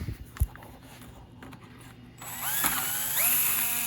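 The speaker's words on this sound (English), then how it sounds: "And I was also just running a drill bit" A drill bit spins inside the slider pin bore of a seized brake caliper on a Ram 3500, clearing out dried lube and sandblasting media; a steady mechanical whir and rattle builds partway through, with a few sharp knocks earlier.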